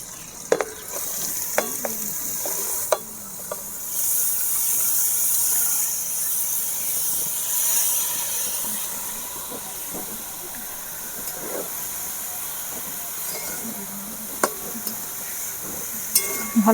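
Grated beetroot and carrot fry with spices in a pan, giving a steady sizzling hiss while a utensil stirs and scrapes now and then, close and continuous.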